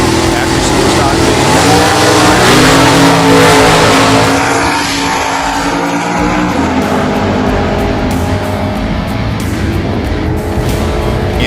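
A Factory Superstock drag race car accelerating hard down the strip, a loud, close roar rising in pitch through gear changes, then fading as it pulls away, with a race announcer talking over it.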